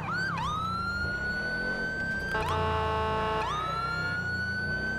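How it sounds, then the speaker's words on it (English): A police car siren in GTA V wails steadily and loud throughout, switching partway through from a rising-falling wail to a fast yelp pattern before returning to the wail. "Come on, we need some sirens here."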